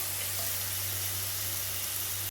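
Ginger garlic paste frying with onions in a pan, a steady close hiss of sizzling that runs unbroken throughout with a low hum beneath and no talking.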